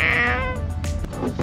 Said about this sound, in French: Oh, il y a un petit chat.